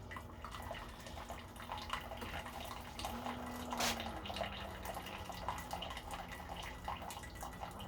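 Keurig coffee maker running a brew cycle during descaling, a low continuous hum and gurgling water flow with faint drips, one short hissing spurt midway, and no voices.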